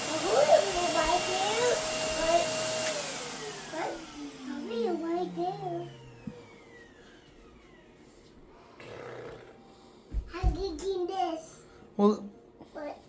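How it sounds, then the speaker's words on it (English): A household vacuum cleaner runs over a rug with a loud, broad whir at first that fades out. A toddler's wailing, babbling cries carry on over it and after it. "here's that vacuum"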